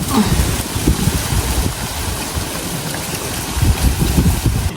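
Strong wind buffets the microphone at a milkfish pond in continuous low rumbling gusts, swelling louder at the start and end, with water noise beneath.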